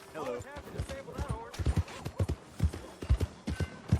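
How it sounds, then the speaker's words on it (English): Horse hooves clip-clop in an irregular walking rhythm in the video game Red Dead Redemption 2, clear and near, with a voice talking over the start. "Зато лошадка на бодряках."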